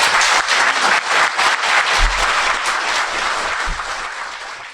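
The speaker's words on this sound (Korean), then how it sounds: "어려운 걸 해주신 두 분에게 박수 부탁드립니다." A studio audience at a Korean talk show claps loudly and continuously, fading slightly toward the end, with no voices over it.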